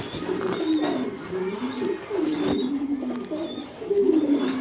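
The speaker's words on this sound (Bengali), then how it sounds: "এটা মাদি কবুতর রেসার মাক্সি মাদি কবুতরটা দেখাচ্ছি আপনাদেরকে" A female racing pigeon, a club-tagged racer, coos in repeated low throaty phrases close up, several rolling coos with brief pauses between them and no talk.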